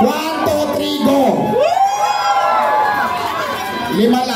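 A crowd yells and cheers loudly at a street giveaway of cash and rice in Quezon City, with excited voices and whoops rising and falling throughout.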